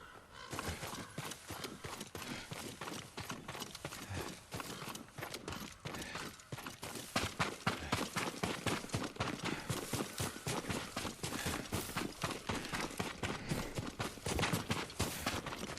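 Horse hooves in Ghost of Tsushima beat out a fast, steady clip-clop, a dense run of crisp strikes that grows louder and closer partway through and carries on alone without talk.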